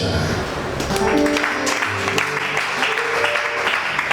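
A church congregation applauding, a steady wash of clapping heard under voices and a faint sung or spoken tone.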